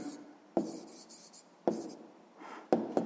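A pen scratches an answer onto paper in a Grade 6 maths exercise, three distinct bursts of close, crisp scribbling separated by short pauses, with no talk over it.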